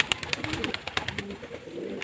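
A male pigeon of a fancy breed coos up close, with a string of sharp, evenly spaced pulses over a low, throaty rolling coo, fairly loud and without any voices.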